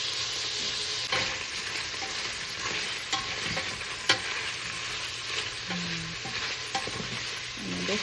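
Sausage browning in a pan over medium heat for New Orleans-style jambalaya, with a loud continuous sizzle punctuated by spoon scrapes and stirring clicks, close up.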